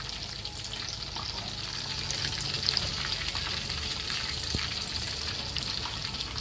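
Chicken frying in oil in a pan, a continuous close, bright crackling sizzle that holds steady throughout with occasional small pops, no talking.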